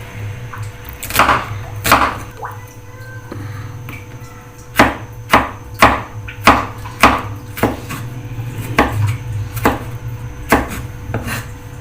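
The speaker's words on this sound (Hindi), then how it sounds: "हम ये सारा मसाला जो है वो काट के रख देते हैं" Repeated knife chops of spices and vegetables on a cutting board, sharp and close, in irregular bursts over a low steady hum.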